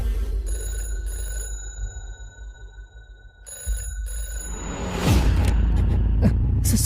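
A telephone bell rings in two long trilling bursts, loud and near, over a low rumble in a tense horror drama scene, then gives way to a loud whooshing swell.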